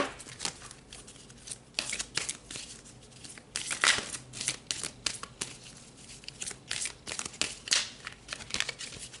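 Tarot cards being handled and pulled from a deck, a close run of soft papery shuffles, slides and crinkly flicks in irregular bursts, fairly quiet with no talk.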